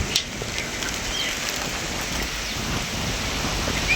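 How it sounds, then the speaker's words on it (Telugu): Steady heavy rain during a monsoon downpour, a dense continuous wash that holds at the same level from start to finish, with no talking. "అటు నుంచి వచ్చి పాడైతున్నట్టుంది వాన."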